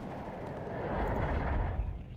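Kokon anti-tank missile launch in the wargame WARNO, a dense rumbling whoosh that swells over about two seconds with heavy low-end roar, loud and alone.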